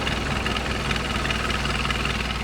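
An idling engine with a suspected leak where the EGR pipe enters the intake beneath the throttle body gives a close, steady, broadband rumble and hiss that holds without change throughout.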